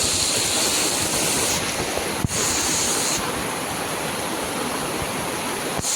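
Rainwater rushes steadily down a colony waterfall after heavy rain, a loud, continuous broadband roar close to the listener with a brief sharp knock partway through.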